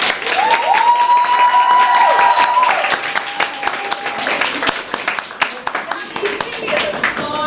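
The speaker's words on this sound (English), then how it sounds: "Please give her a welcome hand of applause." A crowd at a women's celebration event at HCC applauds to welcome a poet, dense clapping that carries on under a speaking voice and a brief high tonal squeal.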